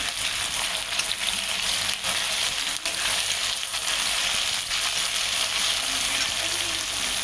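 Onion, tomato, chili and garlic frying together in hot oil, a dense, steady sizzle close by with occasional light stirring scrapes, no voices.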